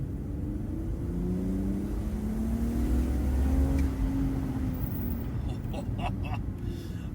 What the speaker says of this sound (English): a proper naturally aspirated 6-cylinder engine sounds so gorgeous